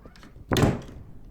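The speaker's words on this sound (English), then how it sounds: "I'm hearing them open and shut their door." A neighbour's door shuts with a single dull thunk nearby, a short muffled slam amid quiet room background.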